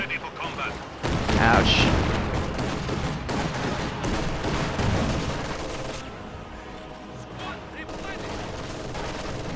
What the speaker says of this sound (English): that Katyusha barrage was just devastating